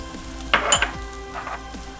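Ginger, garlic and curry masala fry briefly in a pan for moong dal with spinach, a short burst of sizzle and stirring with a light metallic clink.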